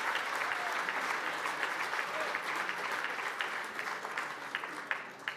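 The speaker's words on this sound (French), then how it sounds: "On peut les applaudir." An audience at an insurance awards ceremony applauds the bronze trophy winners, a full, even burst of clapping from a large room that holds steady for several seconds with a few sharper claps at the close.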